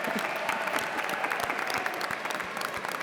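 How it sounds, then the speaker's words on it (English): A graduation ceremony audience bursts into sustained applause, many hands clapping in a dense, lively roar that fills the hall steadily from start to finish. "Let's give your family and friends a very big round of applause"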